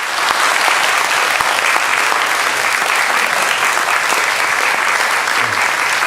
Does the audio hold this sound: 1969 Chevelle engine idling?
no